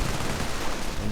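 Dense machine gun fire in a World War II strategy game battle, a continuous loud crackling burst filling the whole moment with no talk.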